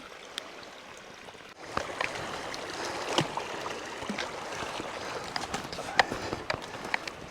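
A creek flows steadily in the wilderness, a continuous rushing wash with scattered clicks and small splashes close by, growing louder after the first couple of seconds.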